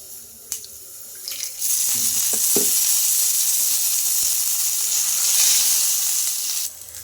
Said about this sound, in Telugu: మనకి మిర్చి కూడా బాగా ఫ్రై అయిపోయింది